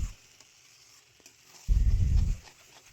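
Jackfruit being stir-fried in mutton fat gives a brief, close, low scraping rumble of stirring in the pan, set against a faint sizzle with a few soft knocks.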